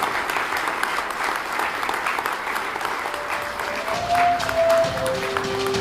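Steady applause from a crowd after a speech by the Philippine President at a national ICT event, sustained and fairly loud throughout, with a faint tone rising near the end.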